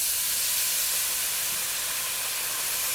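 Water hits a hot pan of browned rice and sizzles loudly, a dense, continuous hiss like steam that stays steady and close throughout with no voices.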